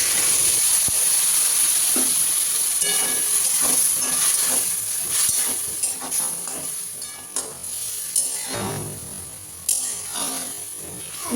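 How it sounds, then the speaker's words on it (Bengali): A spice mixture is stirred into potatoes and eggplant frying in a pan, with loud, close hissing and sizzling broken by scraping stir strokes throughout; no voices. "নিয়ে যে মিক্সচারটা আমি রেডি করেছিলাম সেটা দিয়ে দিলাম এবং ভালো করে ঘেটে দিলাম"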